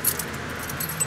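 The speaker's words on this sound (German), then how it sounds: "Hab gehört, man braucht einen Schlüssel zum Losfahren." Car keys jangle briefly in a quiet setting at the start of a road trip, a light metallic rattle with a couple of small peaks over about a second.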